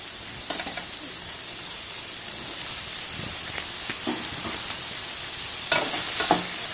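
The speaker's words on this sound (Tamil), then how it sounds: "வெங்காயத்தை நல்லா பிரட்டி விடுங்க. வெங்காயம் நல்லா வதங்கட்டும்." Onions stirred and fried in a pan for a Tamil sundaikai kara kuzhambu, with a steady sizzle and occasional scraping clicks from the stirring, close and alone.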